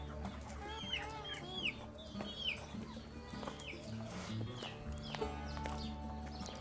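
Several chickens cluck and squawk in repeated bursts close by, with faint background rustling and no talking.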